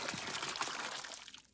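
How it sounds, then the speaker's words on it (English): Water poured into a working model toilet to flush it: a short, quiet splashing gush of liquid that tapers off over about a second and a half, with no talk. "Now, if I flush this toilet by putting more water in,"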